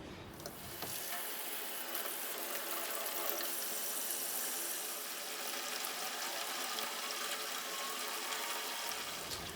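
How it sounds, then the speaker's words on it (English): Warm water runs from a tap into a sink, a steady, even gush that continues for several seconds before cutting off, close and alone with no talking. "the first step is filling up the sink with warm water"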